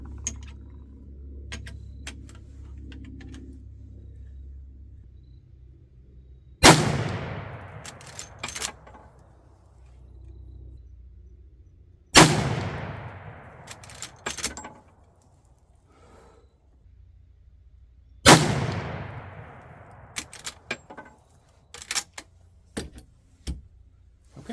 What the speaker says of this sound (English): Let's shoot the other target now.